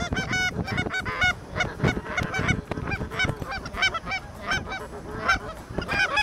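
Geese honk loudly and continuously as a flock comes in during a waterfowl hunt, a dense overlapping chorus of calls close by with no gaps.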